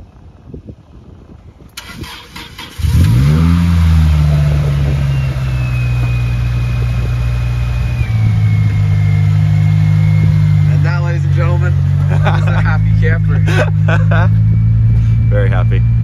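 A Toyota Celica GTS-R engine cranks briefly, catches and settles into a loud, close idle, then climbs in pitch for a sustained rev, with people talking over it near the end.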